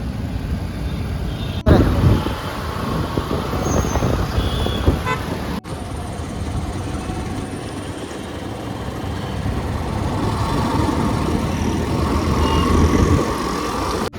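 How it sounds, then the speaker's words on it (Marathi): Heavy road traffic near the commissioner's office in Pune, a steady dense roar of engines and tyres with car horns tooting now and then, loud and continuous throughout. "इकडे फुल ट्रॅफिक लागले आहे"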